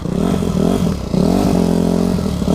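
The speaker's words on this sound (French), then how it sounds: "moi je trouve que c'est une bonne moto, elle est bien pour débuter" A pit bike motorcycle ridden off-road across a ditch, its engine revving steadily up and down close by, with a brief dip before throttling back up under load.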